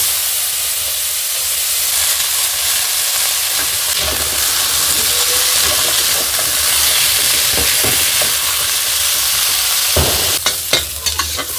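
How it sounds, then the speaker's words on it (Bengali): Potato and vegetable stalk pieces fry in oil for a fish curry, a steady close sizzle with stirring scrapes, sharper clatters and a louder burst near the end, no voices. "এই তেলে আমি ডাঁটা আলুটা ভেজে নেব।"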